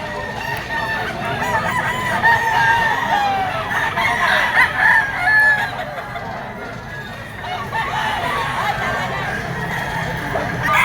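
A dark-legged Gilmore Hatch gamecock crows and clucks nearby among other fowl, with voices talking faintly in the background throughout.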